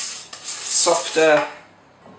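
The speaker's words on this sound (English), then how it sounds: "bit by bit, whisking it in" A whisk scrapes and rubs through chocolate brownie mixture in a bowl in two short close strokes, with a brief spoken word nearby.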